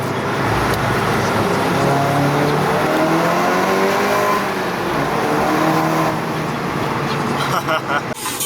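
A 400hp Golf GTI engine pulls hard through a road tunnel, a loud, sustained roar with rising pitch that echoes around the cabin, while a person talks over it.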